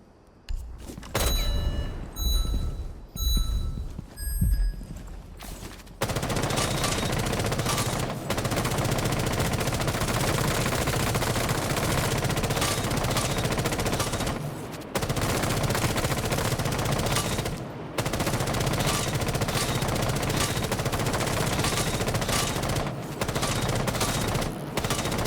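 Sustained automatic gunfire in a console shooter video game, with a few short bursts first and then near-continuous loud fire, broken by brief pauses.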